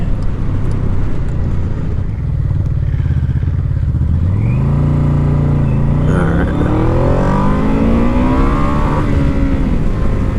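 A Yamaha VMAX motorcycle accelerates hard toward redline, its engine note climbing steadily in pitch through the gears as a loud, continuous roar heard close up throughout.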